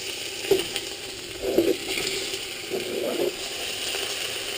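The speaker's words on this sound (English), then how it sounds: "Then we add our beef. Now we're gonna saute this." Beef sautés in a hot pan, giving off a steady sizzle and fry hiss. Several brief stirring scrapes and clinks break in at moderate level.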